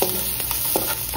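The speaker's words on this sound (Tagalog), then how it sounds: "Magluluto ako today ng pork with ananas para" Pork with pineapple cooking in a pan, a dense continuous sizzle with soft scraping stir strokes, close and without talk.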